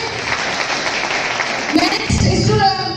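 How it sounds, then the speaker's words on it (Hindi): A school audience at a Republic Day event gives a brief burst of applause for diploma pharmacy students who won the poster prize, the clapping dense and close amid murmuring voices. "इसके लिए जोरदार तालियां हो जाए"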